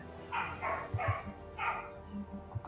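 A dog barks several times in an uneven series, moderately distant and somewhat muffled, with no talking.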